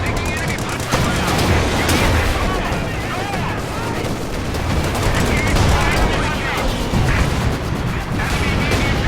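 Tank cannon and battle fire in the video game Company of Heroes 2, a loud dense barrage of booms and gunshots sustained throughout with no pauses, and unit voices mixed into the din.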